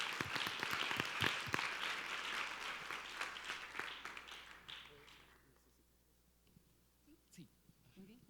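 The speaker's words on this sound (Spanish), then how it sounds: "Un aplauso al Señor." A church congregation claps together in applause for the pastor, loud and dense at first, then thinning out and fading to scattered claps before quiet.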